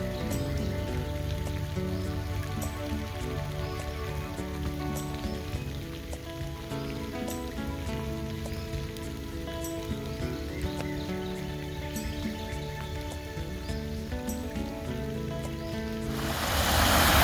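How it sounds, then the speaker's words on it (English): Heavy rain falls steadily outdoors near a large tree and rainwater harvesting barrels, a dense hiss of drops on surfaces that swells louder at the end. "I think we got a little bit of rain."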